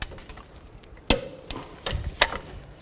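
A torque wrench tightens an inner tie rod adapter on a 2007-16 GMC Acadia, giving a few sharp metallic clicks and taps, close and fairly loud, with quiet shop ambience between them.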